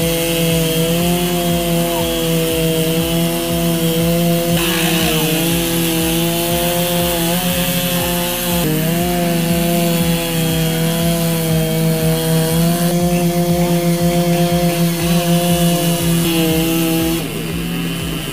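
A loud, close chainsaw engine roars steadily while plunge cutting through a log, its pitch dipping and recovering under load with continuous wood-chewing chatter throughout, no talking.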